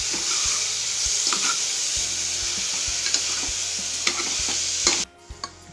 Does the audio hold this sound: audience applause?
no